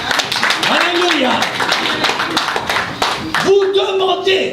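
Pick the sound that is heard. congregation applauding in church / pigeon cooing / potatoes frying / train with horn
congregation applauding in church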